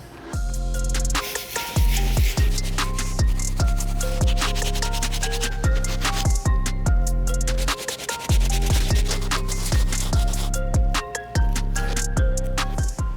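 A brush scrubs carefully over the tan suede upper of a Nike Air Yeezy 1 sneaker, making dense, continuous rubbing and scratching strokes close up.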